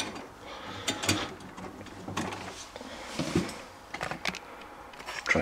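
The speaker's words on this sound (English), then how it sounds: "Just pop the plastic bit open and the defrost sensor will come out there." Flathead screwdriver prying at a plastic clip on a Samsung fridge defrost sensor, producing faint scattered clicks and scrapes of plastic, quiet and close, with no voices.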